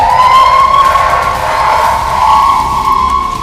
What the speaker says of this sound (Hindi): सायरन की साए साए आवाज खार्किव में दहशत और खौफ पैदा कर रही है।